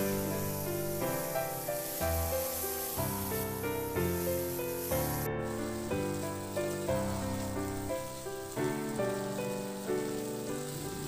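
Small pieces of chicken thigh stir-fried in a pan give off a steady crackling sizzle under looping background music, constant and moderately loud throughout.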